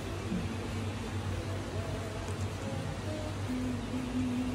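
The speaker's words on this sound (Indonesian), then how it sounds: "Terus hujan." Rain falls outside a window as a soft, steady hiss, faint and even throughout with a low hum in the background and no voices.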